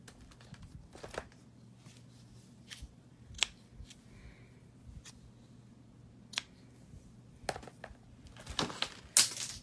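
Scissors snip ribbon for a card-making bow, giving a few faint, sparse clicks and cuts with soft paper rustling between them. The sounds are quiet and close, and no one speaks.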